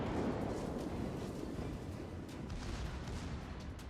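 Gneisenau battleship guns firing in World of Warships, a heavy booming salvo with rumbling low-end roar that rolls on and decays under continuous battle noise.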